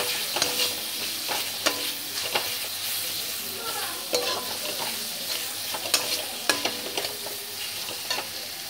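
Ground spices fry in a pan for chana masala, with a close, steady sizzle broken by repeated scraping strokes of a spatula stirring the mixture throughout.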